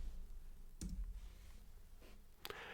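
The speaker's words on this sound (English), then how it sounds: "I'm going to press Enter," A single sharp click of the Enter key on a computer keyboard, struck while entering a spreadsheet formula, with a second crisp keystroke shortly after over quiet room tone.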